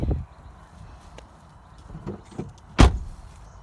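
A single solid car door slam on a 2013 Land Rover Freelander 2 lands sharply near the end, preceded by soft knocks and rustling handling sounds.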